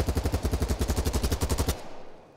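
Rapid automatic gunfire from BattleBit Remastered sprays at a wall in a steady, evenly spaced burst of loud, close shots lasting under two seconds, then cuts off into a brief fading tail.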